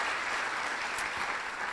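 At a small business awards breakfast, the audience gives a brief, even round of applause for the chamber of commerce team, with steady clapping throughout.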